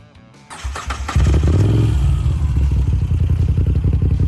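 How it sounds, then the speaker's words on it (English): Moto Guzzi V7 Stone motorcycle with a transverse V-twin engine starting up: a brief starter clatter, then the engine catches with a loud burst and settles into a throbbing, lumpy idle close by. "The V7 Stone features a transverse V-twin engine."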